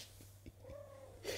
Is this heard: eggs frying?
no